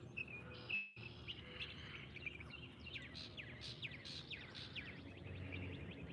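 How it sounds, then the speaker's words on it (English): Birds chirping and tweeting outdoors, several quick repeated calls over a quiet background hum, with a brief soft thump near the start. "Listen at the beautiful birds."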